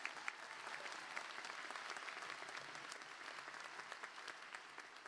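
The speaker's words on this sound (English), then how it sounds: "Let's give all of our marshals a big round of applause." A commencement audience at a Moody College of Communication ceremony claps for the marshals, giving a full, sustained round of applause that stays loud and even, with a few sharper claps standing out near the start.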